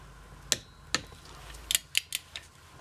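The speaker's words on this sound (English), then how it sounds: "I'm going to double check it with another torque wrench I have anyway" Sharp metallic clicks from a torque wrench tightening bolts on a 1968cc VW engine for a 1968 Karman Ghia: two separate clicks, then a quick cluster of four or five, close and crisp over a quiet background.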